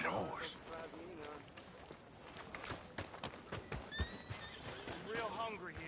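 A horse neighs and whinnies repeatedly amid clip-clopping hooves and shuffling movement, loud and close, with other noises scattered throughout.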